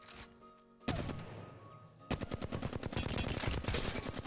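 Rapid bursts of automatic fire from the Flatline assault rifle in Apex Legends, sharp evenly spaced shots in a short volley followed by a longer sustained stream, loud and close.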